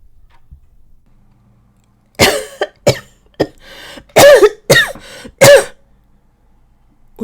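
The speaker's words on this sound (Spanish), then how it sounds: "Un ataque de tos lo hizo despertarse." A man's harsh coughing fit, a burst of several hacking coughs and throat-clearing rasps close up after a quiet start, then fading at the end.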